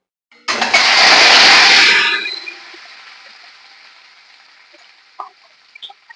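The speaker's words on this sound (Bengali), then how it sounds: "এখন এই কড়ার মধ্যে ডিমটাকে দিয়ে দেবো" An egg dropped into hot oil in a wok erupts into a loud, sudden sizzle that holds for about a second and a half, then settles into a quieter, steady crackle, with a few faint clinks.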